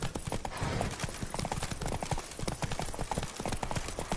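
Horse hooves clip-clop steadily in The Witcher 3: Blood and Wine, a brisk, evenly paced trot heard close and clear throughout, with a faint voice briefly present.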